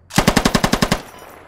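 A PKP machine gun in the video game Squad fires a sharp burst of about eight evenly spaced rounds, loud and close, then the reports fade into a short echoing tail.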